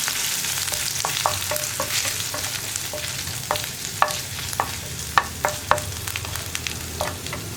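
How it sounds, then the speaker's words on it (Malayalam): Chopped ginger and garlic fry in hot oil while a spoon stirs them, steady loud sizzling broken by frequent sharp scraping clicks against the pan, close up with no voices. "നമ്മൾ കട്ട് ചെയ്ത് വെച്ചിരിക്കുന്ന ഇഞ്ചിയും വെളുത്തുള്ളിയും, ഇതെല്ലാം ചേർത്ത് നന്നായിട്ടൊന്ന് ഇളക്കിയെടുക്കുക"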